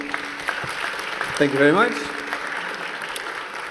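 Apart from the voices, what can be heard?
audience applause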